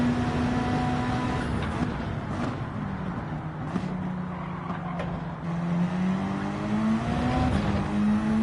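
Engine of a race car in Gran Turismo 7 droning steadily and rising in pitch as it accelerates out of a corner, loud and continuous with shifts in tone and faint tire noise, no talk.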